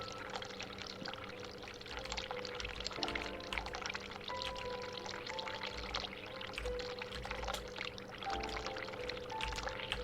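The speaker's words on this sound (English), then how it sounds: "Look, we're running water." Running water from a sink in The Cat Lady video game, a steady pouring rush that carries on for the whole stretch over a low background music drone.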